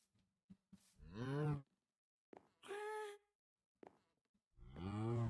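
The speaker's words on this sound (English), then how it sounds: "I'm going to go breed our cows as well." Cows in the Minecraft video game give three drawn-out moos close up, spaced a second or so apart, with short clicky game sounds between them.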